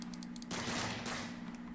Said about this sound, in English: And I start to shoot it because I get tired of it.